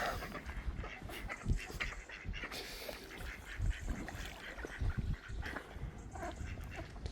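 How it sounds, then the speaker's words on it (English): Ducks quack and chatter in a lively group on the Grand Union Canal at Marsworth Junction, moderately close, with continuous outdoor background noise. "Sounds like the ducks are having fun."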